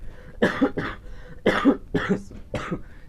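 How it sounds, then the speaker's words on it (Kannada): A person coughs several times in a row, harsh, close bursts with short pauses between them, no talking. "ಸ್ವಲ್ಪ ಕೆಮ್ಮು, ತುಂಬ ಕೆಮ್ಮಿದೆ"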